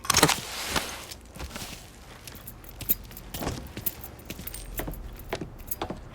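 Keys jangle in the Mafia III video game, with bright metallic clinks and rattles at close range, scattered in bursts over faint background noise.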